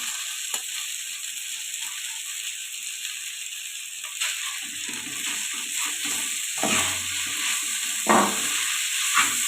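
Thin vermicelli (semiya) tossed and frying in a home kitchen pan for egg semiya, giving a steady close sizzle with intermittent stirring scrapes and light rattles, no talking.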